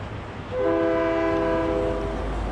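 A train in Fortnite sounds its horn, a loud chord of steady whistle tones that starts abruptly and holds for about two seconds over low rumbling rail noise.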